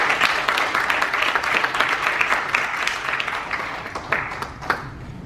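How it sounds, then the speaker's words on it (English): Audience at a Commonwealth Games Queen's Baton Relay event at a university applauding a British High Commission guest: a steady, broad wash of many hands clapping, moderately near, tapering slightly toward the end. "Ladies and gentlemen, let's give him a big round of applause."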